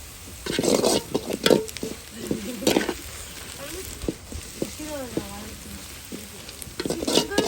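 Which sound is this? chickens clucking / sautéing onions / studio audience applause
sautéing onions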